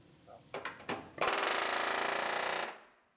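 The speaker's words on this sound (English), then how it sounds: "I don't want to rob myself of the quality air chisel time" An air chisel cutting through the door post of a 2017 GMC Terrain Denali under repair: a few short taps, then a loud sustained rapid hammering rattle for about a second and a half that stops abruptly.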